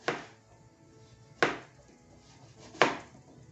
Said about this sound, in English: here are our vegetables. We are going to cut them into rings.